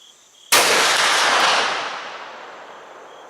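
A single loud, close gunshot from a Thompson Center Omega Z5 muzzleloader rifle at an outdoor range, a sharp blast followed by a long rolling echo that fades out over about three seconds.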